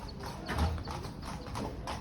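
Police cavalry horses walk along a street on patrol, hooves clip-clopping in an uneven, moderately close rhythm over faint background noise.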